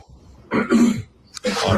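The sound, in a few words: man clearing his throat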